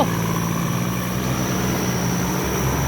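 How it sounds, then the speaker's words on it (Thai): A Thai farm tractor fitted for rotary tilling runs close by, a loud continuous engine drone with steady tonal hum and no talk. "พาพี่น้องมาดูรถไถซิ่งโคราช"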